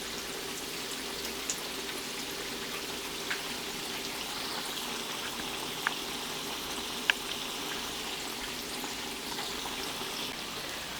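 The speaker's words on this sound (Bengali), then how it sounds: "যদি আমি তাড়াতাড়ি করে ভেজে নিই ঠিকই উপর দিয়ে কালারটা হয়ে আসবে, কিন্তু ভিতরে সিদ্ধ হবে না।" Bottle gourd leaf fritters frying gently in oil, a steady soft sizzle and crackle with occasional small pops, close and alone with no talking.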